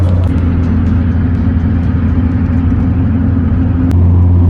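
A VW mk2 Caddy cruising at roughly 60 to 70, its engine giving a steady, loud low drone with road and wind roar throughout and no one speaking.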